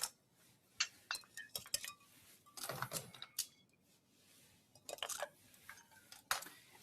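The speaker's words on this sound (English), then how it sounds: "Next thing for us to do is to add some ice into our cocktail glass." Ice goes into a cocktail glass while a tequila drink is made, a scattered run of sharp clinks and ticks, some in quick clusters, fairly close against a quiet background.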